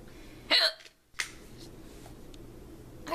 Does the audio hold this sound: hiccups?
yes